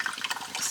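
Water dyed blue pours into a pan of rice, a short splashing, gurgling stream close by.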